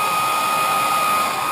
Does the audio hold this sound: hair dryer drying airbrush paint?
yes